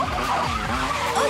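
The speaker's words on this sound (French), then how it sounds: "Ou est-ce que c'est plutôt les hurlements du moteur et l'odeur de la foule?" Go-karts race on a karting track with squealing, skidding tires over dense engine whine, loud and continuous in a busy animated scene.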